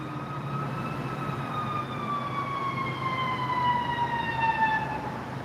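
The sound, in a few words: ambulance siren approaching building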